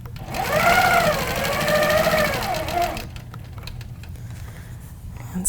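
Longarm quilting machine stitching along a ruler: a steady, loud mechanical whir with rapid needle patter for about three seconds, then a quieter hum and light handling sounds.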